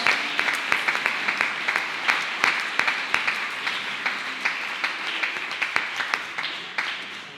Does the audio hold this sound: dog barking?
no